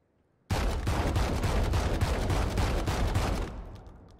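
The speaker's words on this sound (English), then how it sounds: "This is a fully automatic shotgun." The Judge, a fully automatic shotgun in a video game, fires one sustained, dense burst of rapid blasts lasting about three seconds, loud and close, then cuts off into a fading echo.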